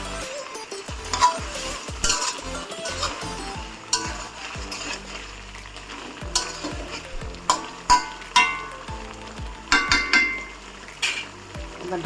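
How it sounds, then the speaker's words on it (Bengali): A spatula stirs fish head pieces being cooked down in a pan, giving repeated scraping and clattering knocks over a background sizzle at close range. "এবার ঢাকনাটাকে উঠিয়ে মাছটাকে একটু নেড়ে নেব"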